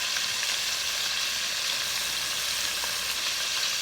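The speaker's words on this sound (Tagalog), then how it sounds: "kailangan ay nakalubog all the way through ang ating prawns para sabay-sabay na maluto" Prawns deep-frying, fully submerged in medium-high oil for salt and pepper prawns, hiss with a constant, bright crackling sizzle, close and even throughout.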